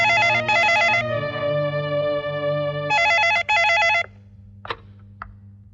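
A telephone rings with loud, warbling trill bursts in two pairs separated by a sustained electronic tone, followed by a couple of brief clicks.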